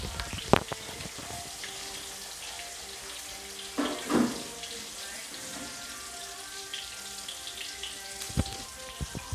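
Tap water running in a home kitchen while hands are washed, a continuous hissing stream broken by a few louder splashes and knocks.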